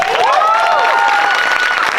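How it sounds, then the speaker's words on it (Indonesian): A live podcast audience at a grand final event claps loudly and continuously for Tasya, with whistles and cheers rising over the dense applause. "Tepuk tangan buat Tasya."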